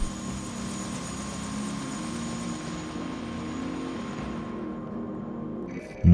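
Helicopter in a sci-fi video game, a steady droning rotor and engine hum at moderate level that holds evenly and then cuts off abruptly near the end, with no voices.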